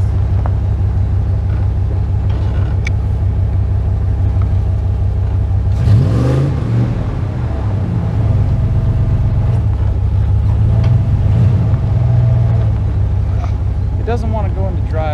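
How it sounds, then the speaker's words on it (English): A Ram 4x4 truck backing up slowly in four-wheel low, a steady low engine rumble close by with a brief rise in revs midway, while people talk over it. "We're in 4 low right now. So just back up here a little bit."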